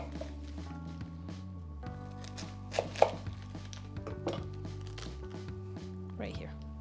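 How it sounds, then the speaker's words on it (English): A knife cuts into a cabbage beside the root, giving a series of soft taps and crunchy slices on a cutting board over a low background hum. A person talks throughout. "So you take the tip of your knife and you go on the side of the root"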